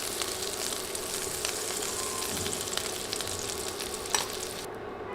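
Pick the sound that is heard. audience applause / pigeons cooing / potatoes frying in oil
potatoes frying in oil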